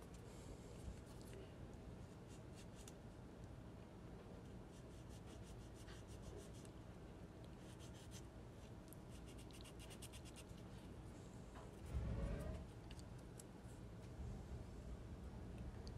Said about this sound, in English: I'm going to rub the surface of the trim with this semi-coarse sanding paper.